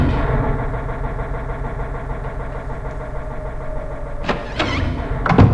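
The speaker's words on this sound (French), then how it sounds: "on entend un bruit de générateur" A generator in a basement of the Silent Hill video game hums steadily with an engine-like idling drone, constant and moderately loud, with a few brief sharper clatters near the end.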